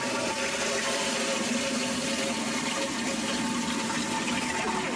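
A toilet-flush sound effect in a DK Sports comedy sketch: a loud, steady rush of churning water that holds constant for several seconds, with no voices over it.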